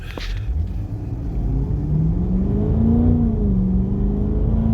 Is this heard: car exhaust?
yes